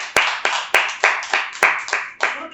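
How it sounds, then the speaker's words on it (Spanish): Church congregation clapping in praise, rhythmic and fairly close, with regular sharp beats roughly every third of a second and a few louder accented claps standing out. "En un aplauso, pues, al Señor"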